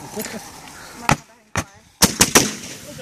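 Several July 4th firework mortar shells burst in sharp, loud cracks, one early and one mid-way, then three close together near the end, with faint voices between the blasts.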